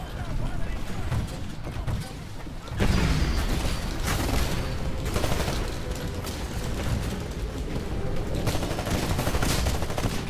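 Rapid, dense bursts of Titanfall gunfire crackle continuously in an Attrition match, loud and busy, with explosions and layered effects.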